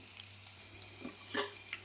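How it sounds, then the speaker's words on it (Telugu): Tempering spices frying in a pan, a faint, steady sizzle with a few small crackles and stirring scrapes, no talking. "ఫ్రై చేస్తున్నాను."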